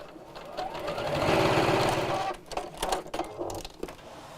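A sewing machine stitches fabric for a drawstring box bag in a steady whirring run that speeds up and then slows, followed by a few short stop-start bursts, close and clear.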